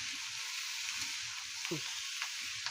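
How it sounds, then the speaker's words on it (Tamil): A dish cooks on a low flame in an iron pan. It gives off a soft, constant hiss of simmering and sizzling at close range, with a few brief clinks. "இது அப்படியே சிம்மில் வச்சு வேக வைப்போம்."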